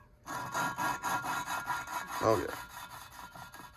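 Engine valve lapped into a cylinder head with compound, a steady rhythmic rubbing and rotating scrape repeating close by, briefly interrupted by a short spoken exclamation.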